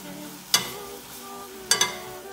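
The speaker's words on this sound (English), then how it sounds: "And then I'm just going to stir this up slightly, just to make sure the flavoration gets all around in there." Ramen noodles with dill butter, garlic and pepper being stirred, giving two brief scraping clatters, one and then a quick double, over a faint steady sizzle.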